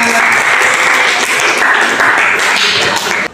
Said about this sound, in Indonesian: Oke, tepuk tangan kita semuanya.